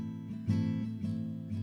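A short stretch of guitar playing, a few strummed chords with clear sustained tones, no voices.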